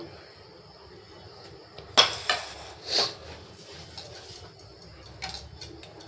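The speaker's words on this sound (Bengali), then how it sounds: "এইভাবে ছুরি দিয়ে আস্তে আস্তে করে ভেতরের অংশটাকে কেটে বের করে নিতে হবে।" A knife hollows out the insides of cut tomatoes in a quiet kitchen, giving a few sharp metallic clinks and soft scrapes against a plate, then mostly near-silence.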